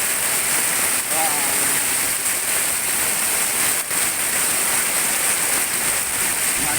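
A torrential downpour in Cikarang rushes like running water along a street, a loud, constant broadband hiss with only brief dips.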